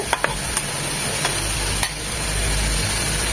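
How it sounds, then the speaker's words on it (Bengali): Kalui saag greens frying in a pan with chili, a loud close sizzle broken by a few scraping stirs near the start, steady and alone. "4 থেকে 5 মিনিট একটু ভাজা ভাজা করে নিলেই আমাদের শাকটা একদম রেডি।"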